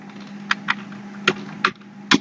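Keys on a computer keyboard are tapped into an Excel data entry form in short irregular clusters of crisp clicks, close and clear over a low steady hum.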